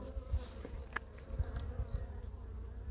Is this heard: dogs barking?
no